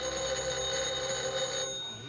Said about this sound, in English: Let it ring. Oh, it will only keep on ringing.